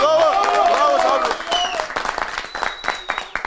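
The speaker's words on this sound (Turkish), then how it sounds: "Bir alkış." A voice speaks briefly, then a short burst of scattered applause from a small audience, loud and close, fading quickly.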